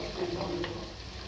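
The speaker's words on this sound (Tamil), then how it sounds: "நல்லா வதக்கி விட்டுக்குங்க. நல்லா வதங்கணும் வெங்காயம்." Onions sautéing in a pan, with a steady soft sizzle and a stirring scrape running through the short clip, no voices heard.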